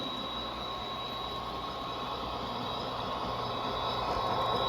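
Athearn RTR SD40R model locomotive rolling on with throttle at zero, a steady close whir and rumble of motor and wheels that runs unbroken and even throughout, with no voices.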